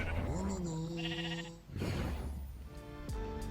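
Minecraft sheep bleat loudly over game music and tones, with an Evoker's spell-casting sound as it turns a blue sheep red; a wavering bleat opens and further cries follow after a brief dip.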